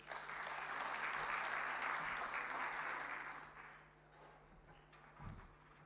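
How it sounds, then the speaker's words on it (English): Applause from a dinner audience at a budget review session, a dense steady clatter of many hands that holds for about three seconds, then thins out and fades with a few stray claps. "After striking a deal with you just now, that's the applause that we get."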